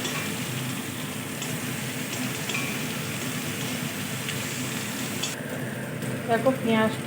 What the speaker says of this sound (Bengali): একটু ভাজছি দেখো পেঁয়াজটা